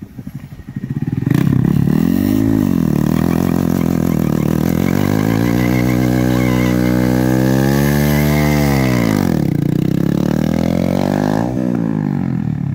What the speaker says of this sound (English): can you do a burnout on that thing?